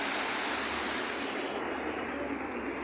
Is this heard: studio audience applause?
no